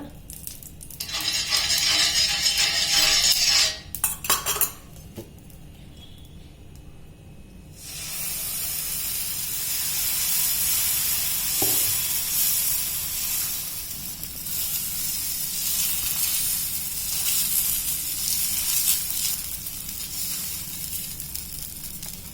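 Ragi and green gram sprouts dosa batter cooking on a hot pan, a loud hiss in the opening seconds that drops out, then a steady, softer sizzle that carries on alone for the rest.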